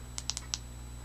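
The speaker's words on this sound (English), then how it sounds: "you can double click for turbo" Quick crisp clicks from the tail button of an AstroLux FT01 flashlight, pressed in a rapid double-click to reach turbo: four close, sharp taps within half a second over a faint steady hum, with no talking.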